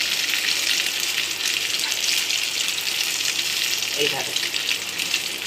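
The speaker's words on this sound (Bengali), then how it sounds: "আমি একটা করেই ফ্রাই করছি" Savory French toast, bread topped with onion and tomato, sizzles steadily in hot oil, a dense continuous frying hiss throughout, with a brief low voice heard near the end.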